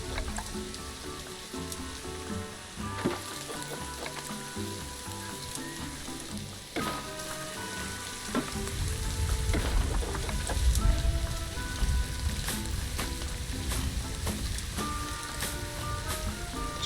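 Continuous rain in the game Planet Zoo hisses and crackles on surfaces, with quiet music running underneath and a heavier low rumble building partway through.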